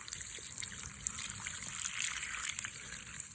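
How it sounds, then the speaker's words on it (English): Tap water running steadily over thawing bass and a panfish in a kitchen, a continuous close trickle and splash without pause. "So I'm pretty much running this water on them"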